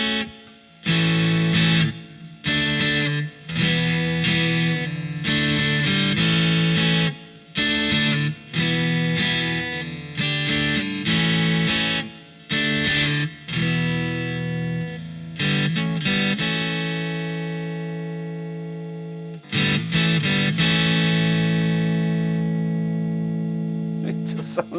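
Electric guitar run through a Sonicake QGT-01 multi-effects processor, a distorted, effects-laden tone with chords and sustained notes ringing out loud and close, several short gaps between phrases and a long fading chord near the end.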